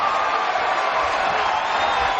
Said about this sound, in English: that's certainly woken the crowd up